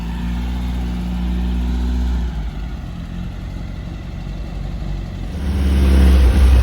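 A dune buggy engine revving loudly nearby, a deep throaty idle that drops back briefly before surging again in a hard rev toward the end, with no talking over it.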